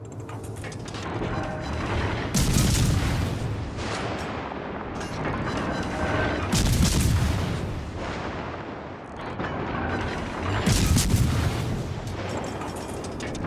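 Heavy naval gun salvos from a warship in World of Warships: Legends, firing at a Bismarck from behind an island; three loud booming volleys roughly every four seconds over a constant rumbling battle background.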